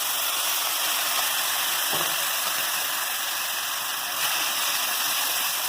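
Spices and tempering sizzle steadily in hot oil while cooking a Bengali shing fish curry, a close, continuous hiss and crackle with no talk.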